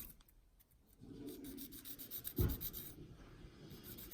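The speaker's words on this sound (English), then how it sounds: "it's preferable to take a bit of sandpaper to it and to clean them up that way" Quiet, dry rasping of sandpaper rubbing against 3D-printed plastic, short scratchy strokes close by, one stroke briefly louder.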